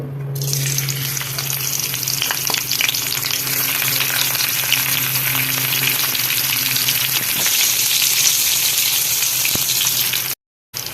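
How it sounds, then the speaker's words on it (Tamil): Crushed garlic frying in oil for dried anchovy fry, a loud continuous close sizzle with occasional spoon stirring, no voices, cutting off briefly near the end. "சரி வாங்க வறுக்கலாம் எண்ணெய் ஊற்றிக்கலாங்க நசுக்கி வச்சுருக்க பூண்டு"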